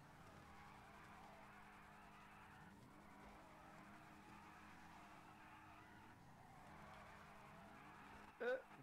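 Video game car tires squeal and skid in a continuous faint wail, with engine noise beneath, quiet and steady, ending with a brief louder burst.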